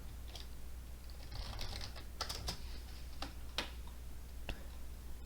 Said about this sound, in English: I'm typing out a Discord message too.